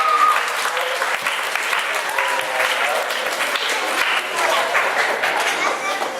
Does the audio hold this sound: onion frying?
no